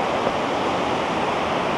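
A waterfall in Japan roars in a steady, dense wash of falling water, loud and close, with no other sounds.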